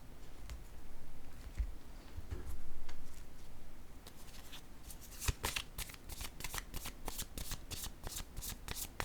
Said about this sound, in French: je vais déposer une carte sur la femme